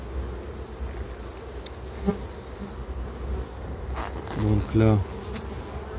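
A strong honeybee colony hums steadily at an opened hive, a soft continuous buzz with a few louder bees passing close, while a person briefly speaks.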